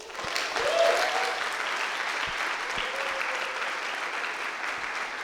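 Audience at an event marking ten years of a university quota law applauds, a sustained crowd clapping at a steady moderate level, with a brief voice or whistle rising early and a few knocks mixed in.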